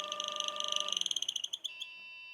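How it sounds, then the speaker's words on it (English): Rapid electronic beeps pulse quickly over the motor hum of a Nova Voyager DVR drill press, speeding up as the quill nears its set depth before stopping, leaving just the steady motor tone. "And it starts to beep when I get close."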